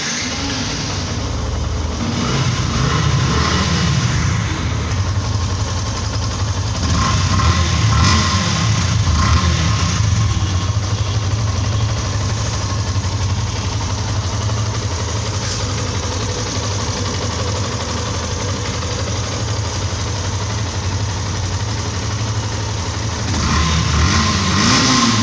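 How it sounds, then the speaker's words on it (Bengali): A 2023 Yamaha FZ V2 motorcycle engine idles steadily up close, rising in a few rev swells near the start and again toward the end, with no talk over it. "এবার আমরা বাইকটির এবার সাউন্ড কোয়ালিটিটা দেখি"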